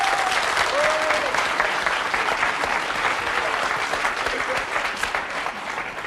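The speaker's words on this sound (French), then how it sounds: "On peut l'applaudir très fort." Audience in a television studio applauding a Lido revue dancer: loud, sustained clapping from many hands that fills the room, with a few faint vocal sounds near the start before it eases slightly toward the end.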